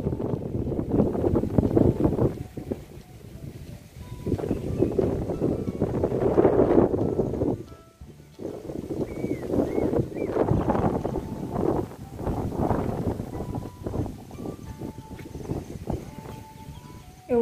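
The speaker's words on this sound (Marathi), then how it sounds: "एवढं वारं सुद्धा सुटलेलं आहे की सगळ्या व्हिडिओमध्ये वाऱ्याचाच आवाज येत आहे" Strong wind buffets the microphone in gusty, rumbling bursts during a monsoon rainstorm in a village countryside, with a brief lull near the middle before the roar resumes, close and loud throughout.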